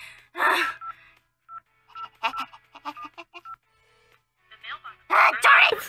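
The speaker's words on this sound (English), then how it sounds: "Why am I still trying to friggin' call him?" Series of telephone keypad dialing tones as a call is attempted and fails to connect, short beeps spaced between bursts of a voice speaking nearby.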